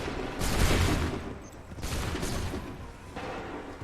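Musket volleys crack out in Assassin's Creed III, a loud ragged burst of massed gunfire followed by two more fainter volleys at steady intervals, no talk over them.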